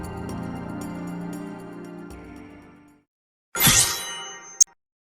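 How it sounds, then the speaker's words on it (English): Pyreflies effect from a Final Fantasy video game: a fading tonal chord gives way to a bright shimmering chime and a final clear ding, with silence between. "that is the sound of the Pyreflies"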